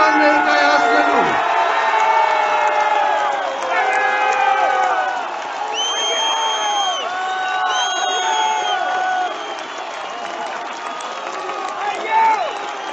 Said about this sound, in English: everybody seems so happy and, clapping and cheering